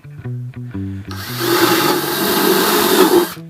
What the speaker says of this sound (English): I am now going to use that larger drill bit in order to create some holes